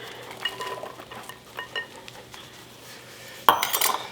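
Chopped green peppers and onions drop into a pot of Jamaican oxtails in a pressure cooker, with light scraping and clinking of a spoon against the pot and a louder clatter and sizzle near the end.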